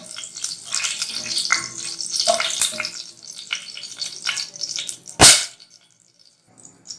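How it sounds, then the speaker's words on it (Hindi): Cloves frying in a little ghee give a soft, steady sizzle with faint stirring and light crackles, then a sharp clatter near the end before the pan quiets almost to silence. "लौंग को थोड़ा सा घी के साथ हमने फ्राई करना है।"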